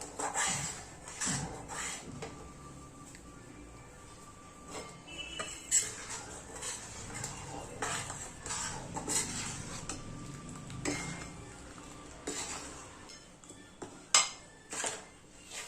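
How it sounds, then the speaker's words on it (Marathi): Spiced masala fries in oil in a pan for Kolhapur-style bhadang while a utensil scrapes and clinks against the metal in a continuous, quiet rhythm, with a few sharper knocks near the end. "कंटिन्यू हलवायचा आहे फक्त एक मिनिटासाठीच आपल्याला याच्यात तेलात तो मसाला फ्राय करून घ्यायचा आहे"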